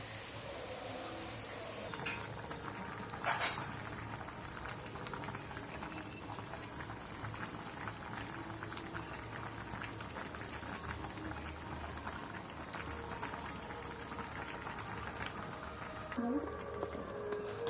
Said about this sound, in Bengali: তরকারিটা ফুটে গেছে,